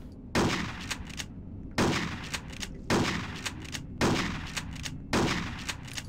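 Buckshot shotgun blasts in the Hitman: Codename 47 PC game, five loud, sharp reports spaced about a second apart, each with a short decaying tail, with no talking.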